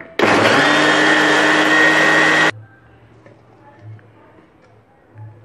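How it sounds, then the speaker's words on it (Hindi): A blender grinding yogurt for lassi roars loudly for about two seconds with a steady high whir, then cuts off abruptly, leaving quiet faint knocks afterward. "अब लगभग 10 सेकंड तक हम इसे मिक्सी में ग्राइंड करेंगे।"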